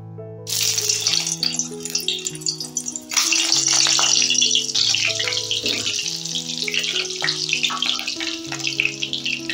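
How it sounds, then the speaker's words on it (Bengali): Potatoes dropped into hot oil in a wok sizzle loudly and steadily, the hiss jumping louder partway through, with music playing underneath. "এবারে আমি প্রথমে আলুটা ভেজে নেব।"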